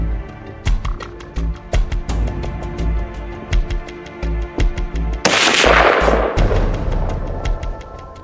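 A rifle is fired at a whitetail deer during an Alberta hunt, one loud, sharp report with a rolling decay tail that follows a run of close clicks and rustling handling noises.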